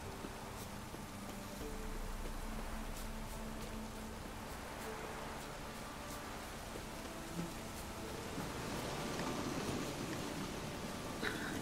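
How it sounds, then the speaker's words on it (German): Rain falls in The Witcher 3: Wild Hunt, a steady wash of patter and hiss with faint scattered drips and thumps, moderately soft and continuous without speech. "Es regnet."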